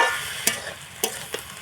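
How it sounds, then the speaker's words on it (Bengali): Greens being stirred in a frying pan over a soft continuous sizzle, with three distinct scraping strokes of a utensil spaced apart, close and moderately loud. "এখন একটু নেড়ে চেড়ে নেব"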